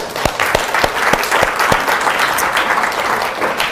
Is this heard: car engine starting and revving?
no